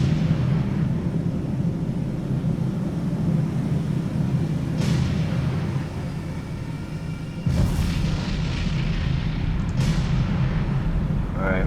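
A deep, booming explosion with rumbling aftershocks in the naval game War on the Sea, a PT boat battle, with sharp loud blasts near the middle and later under a constant low roar.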